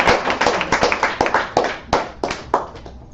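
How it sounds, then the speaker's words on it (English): A small lecture audience claps in uneven bursts, individual hand claps sharp and close, rising and falling in a loose rhythm before thinning out. "we give a round of applause to y'all"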